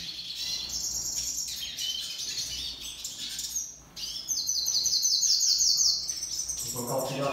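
Chestnut-bellied seed finch (curió) at a breeder's aviary, singing in bright, fluting phrases that repeat over several seconds, with faint background chirps and a brief pause midway.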